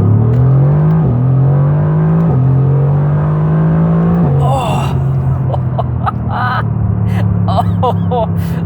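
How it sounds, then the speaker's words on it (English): A 2018 Mercedes-AMG GT R's twin-turbo V8 growls loudly up through the gears, rising in pitch with short shift breaks, while a voice gasps and exclaims over the engine near the end. "It's the growl of the V8, this angry muscle car like growl, and the spooling of the turbos at the same time."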